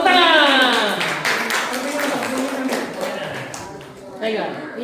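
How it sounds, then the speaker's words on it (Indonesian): A group of children claps together in a mosque gathering, a dense, fairly loud patter of hands mixed with voices and chatter throughout. "Tepuk tangan."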